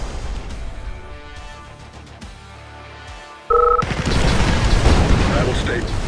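Weapons fire and explosions in the real-time strategy game Mental Omega, with a synthetic voice line over rumbling at first, then a sudden loud burst of blasts and crashing impacts that stays dense and heavy until the end.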